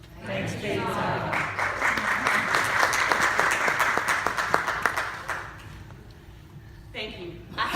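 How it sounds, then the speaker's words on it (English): A church congregation claps in sustained applause for several seconds, then it fades out, with a voice briefly heard near the end. "You're not clapping for performance, but giving praise to God."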